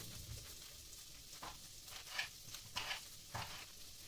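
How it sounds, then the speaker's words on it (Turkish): Soft, steady sizzling of peppers and garlic sautéing in a pan with occasional stirring scrapes and clinks, fairly quiet and close, no talking. "Hemen biberlerimi tavama boşaltıyorum"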